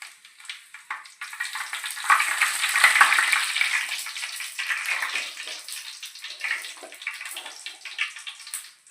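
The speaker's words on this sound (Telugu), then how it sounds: "బిర్యానీ ఆకు, సాజీరా, దాల్చిన చెక్క, యాలక్కాయలు, లవంగ మొగ్గ ముందైతే వేసుకున్నామండి" Whole spices, bay leaf, shahi jeera, cinnamon, cardamom and cloves, fry in oil for mutton curry with a soft, airy sizzle that swells and fades, along with faint stirring.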